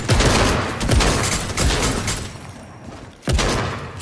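Gunfire in the video game Fortnite crackles in repeated loud bursts over a busy background, with one heavier shot near the end.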